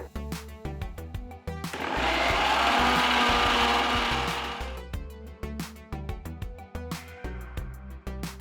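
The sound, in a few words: mixer grinder grinding greens into paste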